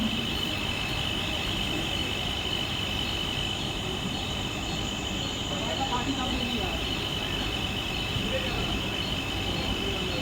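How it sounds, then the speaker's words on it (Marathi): A slow local train rumbles steadily as it arrives at a Mumbai station platform at night, with a constant low mechanical roar and faint wheel squeals rising midway, under background chatter. "धीमी लोकल थोड़े ही समय में प्लेटफॉर्म क्रमांक 2 पर आ रही है"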